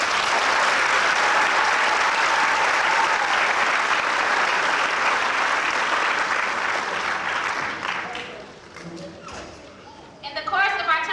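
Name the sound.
round of applause for graduating class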